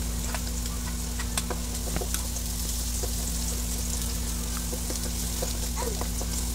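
Garlic sautéing in hot oil in a pan, already holding ginger and onion, for a Filipino squash and string bean dish: a steady, close crackling sizzle with fine pops and a constant low hum underneath, no voice.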